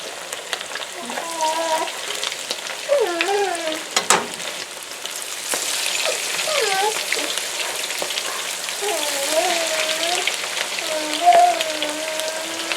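Breaded chicken tenders fry in hot, lightly smoking oil in a pan, a steady close crackling sizzle running throughout while a voice talks over it.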